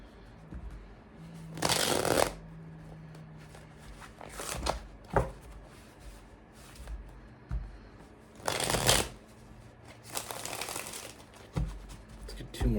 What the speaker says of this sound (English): Let's get 2 more shuffles for Libra.